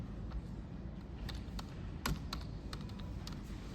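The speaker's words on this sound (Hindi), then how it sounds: "तो मैं गेस्ट का नाम यहाँ पे टाइप करूँगा" A guest name being typed on a computer keyboard in hotel management software, a short run of quick, light key taps, close and fairly quiet with no talking.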